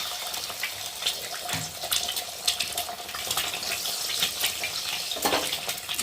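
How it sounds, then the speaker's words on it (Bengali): Beaten eggs fry in hot oil in a kadai and are stirred for street-style chowmein, making a dense, continuous crackling sizzle close up, broken by faint scraping of the spatula. "ডিমটা ভালো করে খুঁটি দিয়ে নেড়ে দেবো"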